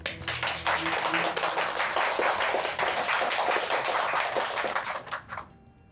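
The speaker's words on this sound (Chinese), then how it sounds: "掌声欢迎" A room of colleagues at an office meeting breaks into sustained applause for a new coworker, dense clapping that holds steady for several seconds before tapering off abruptly.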